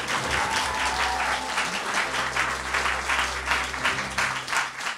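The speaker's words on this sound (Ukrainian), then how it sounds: "Ваші оплески!" A concert audience applauds loudly and steadily during a gala show, dense clapping filling the hall for the whole stretch without a break.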